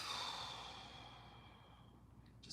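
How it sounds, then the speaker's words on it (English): A slow, soft exhale during a guided yoga breathing exercise, a breathy release that gradually fades toward quiet, heard up close and alone. "And exhale, release."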